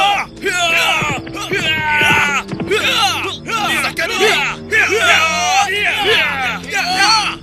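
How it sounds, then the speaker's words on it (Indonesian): Attackers in a dramatised story shout loudly together, a crowd of voices bellowing and yelling in repeated surging bursts, close and sustained over several seconds. "malam yang sunyi itu pun dipecahkan dengan teriakan keras"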